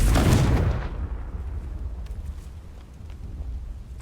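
Confringo blasting spell from Hogwarts Legacy erupts in a loud, close explosive burst that fades over about a second into a low rumbling, crackling tail that lingers under steady background noise.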